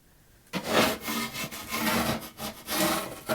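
Rough, rhythmic scraping and sanding strokes rasp against a dried coat on a hard surface, close and steady with brief pauses between passes.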